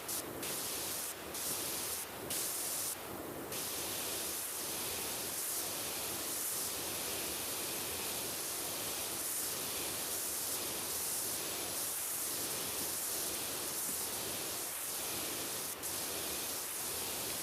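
Steady, loud hiss of a pressure washer blasting water in PowerWash Simulator 2, running continuously with faint pulsing swells and a few short bursts near the start.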